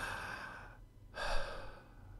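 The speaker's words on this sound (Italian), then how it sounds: "provi a fare un respiro, cioè ascoltare il respiro" A slow, audible breath: a long inhale, a brief pause, then a fuller exhale, close and soft.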